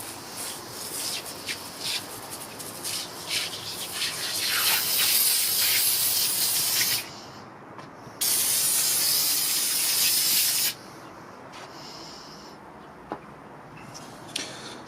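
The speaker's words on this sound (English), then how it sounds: "We're going to spray them down with engine degreaser to break down all the grease." Bursts of aerosol engine degreaser spray onto Mazdaspeed 3 RPF1 wheels hiss in long, loud blasts with short pauses between, close up, followed by a quieter stretch with small clicks.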